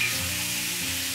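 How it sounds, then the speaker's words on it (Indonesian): Beef or pork strips hit a hot wok for a stir fry with spring onion and red chili, giving a loud, steady, close sizzle with no talking. "Nah, udah wangi, kita masukin tadi dagingnya ya."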